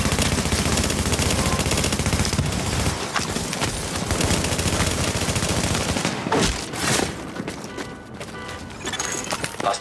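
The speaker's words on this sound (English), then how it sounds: "Hostiles are firing on fortification" Hostile gunfire in Tom Clancy's The Division, dense bursts of automatic fire that rattle continuously, then thin into scattered sharp shots and cracks, loud and close.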